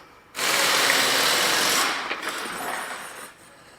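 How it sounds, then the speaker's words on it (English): A vehicle lift lowers a Mazda CX-9 in a garage, giving a steady loud hydraulic whir and hiss that starts abruptly, holds for about three seconds, then eases off and stops. "now we're going to lower the vehicle down"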